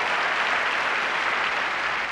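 An audience at the 1987 American Comedy Awards show claps in a dense, even burst of applause that holds steady for two seconds, with no talk over it.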